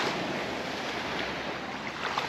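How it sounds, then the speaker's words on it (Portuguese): Ocean surf at Kata Beach, Phuket, washes in a dense steady roar of breaking waves, mixed with wind buffeting the microphone and no voices. "Kata Beach."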